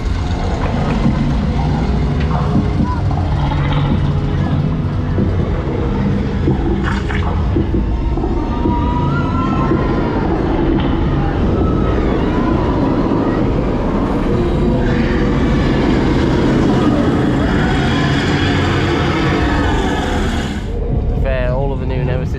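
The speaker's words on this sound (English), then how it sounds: "There's the next train dispatching in the distance." A Nemesis Reborn roller coaster train dispatches at Alton Towers theme park, heard as a distant rumbling rail roar beneath continuous park ambience and crowd noise, with a brief sharper hiss near the end.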